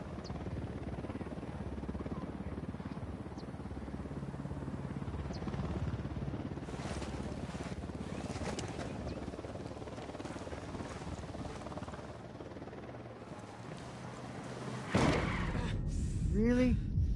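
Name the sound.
helicopter approaching in video game Ghost Recon Wildlands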